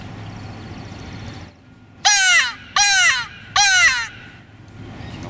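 A crow gives three loud, harsh caws in even succession, each a rough, descending call with brief gaps between, set against a faint steady outdoor background.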